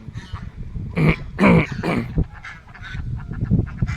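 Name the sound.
geese honking on a duck farm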